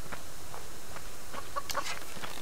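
Chicken clucking in the survival video game Subsistence, a few short soft clucks in the second half over a steady background hiss, fairly faint and without talk.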